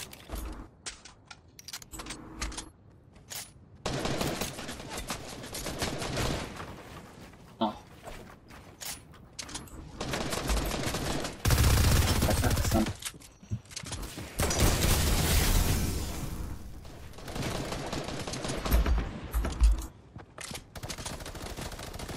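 Bursts of rapid gunfire from a multiplayer shooter video game, loud and repeated in clusters with mechanical clanks between volleys, under excited talk.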